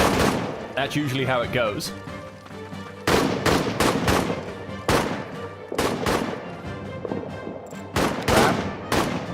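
Artillery and gunfire in the trench-warfare game All Quiet in the Trenches: a steady series of loud, sharp blasts thud every second or so, with someone talking over the barrage.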